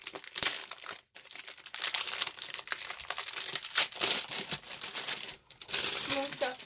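Plastic wrapping crinkles and tears as packages of metal craft dies are opened by hand, in irregular close bursts of rustling and crumpling with brief pauses.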